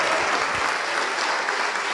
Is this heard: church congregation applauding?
yes